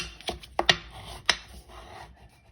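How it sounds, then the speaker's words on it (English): A bone folder burnishes the crease of a folded Old Olive card: a few short, close scraping rubs in quick succession, then quieter sliding with low background noise. "use our bone folder to give it a nice burnish"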